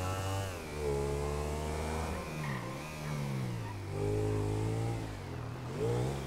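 Motorcycle engine in GTA 5 revving in rising and falling waves, a steady close mechanical drone that swells twice and eases off.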